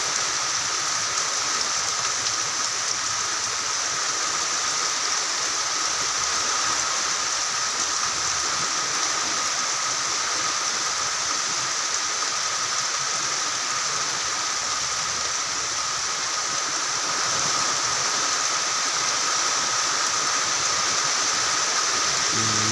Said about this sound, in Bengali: যে প্রচুর পরিমাণ বৃষ্টি হচ্ছে